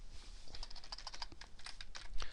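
Typing on a computer keyboard while working in Excel, a quick run of close, crisp key clicks with brief pauses and no talk.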